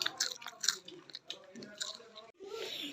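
Crunchy spiced chips mix tossed with ginger, chilli and onion being chewed and bitten at close range, crisp crunches scattered through the clip, with a short pause near the end.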